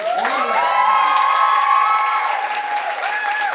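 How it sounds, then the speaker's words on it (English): A crowd at a dance showcase claps and cheers loudly and continuously, with high-pitched whoops and shouts rising over the applause. "Can I get one more round of applause for everybody?"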